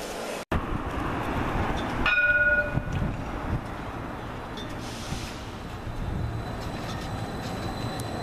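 A tram rolls along its rails on the way to Britannia, giving a steady rumbling run with a brief high squeal or chime partway through, moderately loud and continuous.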